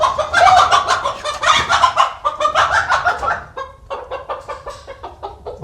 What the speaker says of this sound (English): we've still got several of those roosters out here in the barn